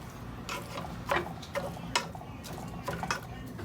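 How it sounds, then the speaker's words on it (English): Ground beef being chopped up in a pan for tacos, a handful of scattered spatula scrapes and clicks against the pan, moderately close over a steady low background hum. "just kind of chopping it up a little bit more."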